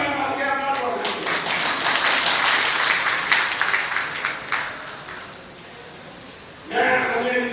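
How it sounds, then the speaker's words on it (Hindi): An audience at an indoor family-awareness programme claps loudly in a sustained burst that fades toward the end, then a fresh round of applause breaks out near the close. "एक मतलब जोरदार तालियां मार के अपना स्वागत करो।"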